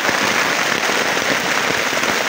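Heavy rain pounds on a small tent in the Sumatran forest, a dense, loud, steady hiss of drumming drops close overhead with no pauses.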